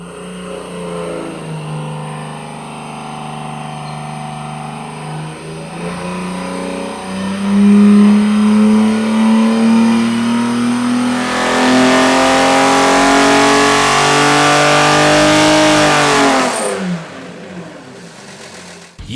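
Chrysler 225 slant six engine on a dyno, revving steadily upward toward 6,000 RPM, a loud sustained rising engine note that climbs for several seconds before abruptly cutting off near the end.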